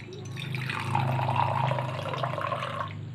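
Water poured from a container into a drinking glass during a simple water-vanishing magic trick, a steady close splashing and trickling stream lasting the whole few seconds.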